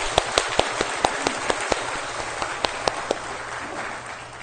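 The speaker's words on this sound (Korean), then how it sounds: "이 자리를 빌어서 정말 크게 박수 한번 쳐드리고 싶어요." A congregation claps during a church service honouring teachers, with a few sharp, distinct claps standing out over a dense, even spread of hand-clapping throughout.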